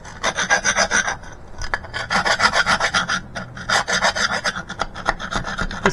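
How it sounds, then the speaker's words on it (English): Tile rasps and sandpaper rubbing across a rock-hard clay sculpture in repeated rhythmic rasping strokes, close and loud, pausing briefly before the scraping resumes. "take tile rasps and sandpaper and just start smoothing off the back and all of the rough edges"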